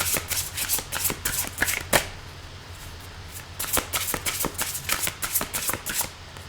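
Oracle cards being shuffled by hand, a rapid run of crisp riffling and flapping bursts, close and clear in a quiet room.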